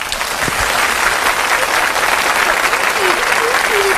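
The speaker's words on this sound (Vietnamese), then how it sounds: "Xin quý vị cho một tràng pháo tay." Loud, sustained applause from a theater audience at a comedy stage show, a dense continuous wash of clapping with crowd voices faintly underneath.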